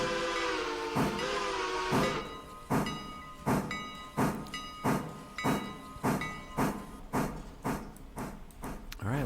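A locomotive in the Railroader video game, braking a 1,200-ton train to a stop near Alarka Junction. Steady tonal engine hum opens, then rhythmic metallic clanks repeat evenly and close, with the rumble easing beneath them.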